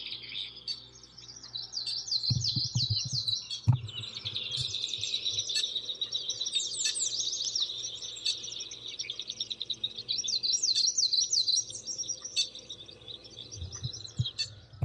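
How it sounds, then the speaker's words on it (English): Busy, bright bird song with rapid chirps and trills running almost throughout, fairly close, with a few low thumps and rustles underneath. "Guys like those bird noises?"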